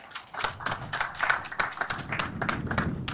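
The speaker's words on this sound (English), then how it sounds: "Let's give them a round of applause." Applause at a secondary school cricket match presentation for a power generation company sponsor in Trinidad and Tobago, a modest group clapping in a quick, uneven patter of overlapping claps, close and continuous across the moment.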